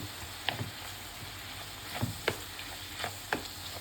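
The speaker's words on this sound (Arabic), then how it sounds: "نخلط الحاجات دي كلها سوا" Spaghetti, hot dogs and tomatoes get stirred in a hot pan, with a soft sizzle underneath and sharp spoon scrapes landing every half second to second.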